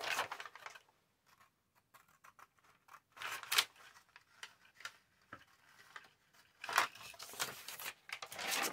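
Scissors cut a paper journaling card out of a larger sheet: scattered, close snips and crisp paper rustles with short pauses in between.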